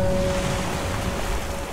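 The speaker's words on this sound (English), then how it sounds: "Okay, water is seeping in." Steady rushing water flowing in during an earthquake ride in Minecraft, a continuous broadband wash with a faint tone running beneath it and no talking.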